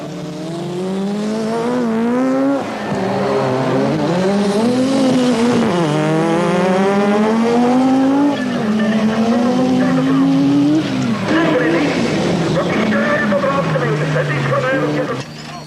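Rallycross cars from the 1986 European championship race close by, engines revving up and down in rising and falling pitch as they cut corners, with tyre squeal and a commentator talking over them.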